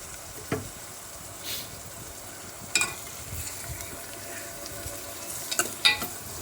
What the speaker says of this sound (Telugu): దోరగా వేగేంత వరకు ఫ్రై చేసిన తర్వాత ఈ పక్కన టమాటా ముక్కలు అవి వేసుకోవాలి